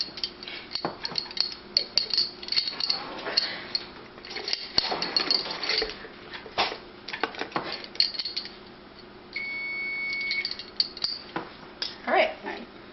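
A metal spoon and dishes clink and clatter in a home kitchen while a toffee cake is being made, with scattered sharp taps and scrapes, a brief whirring hum, and a person talking between the sounds.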